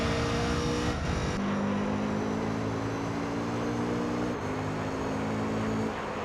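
Race car engine in Gran Turismo 3: A-Spec heard from an outside view at Trial Mountain, a loud sustained drone with steady harmonic tones and brief shifts in pitch during two gear changes.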